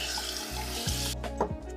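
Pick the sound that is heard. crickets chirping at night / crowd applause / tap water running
tap water running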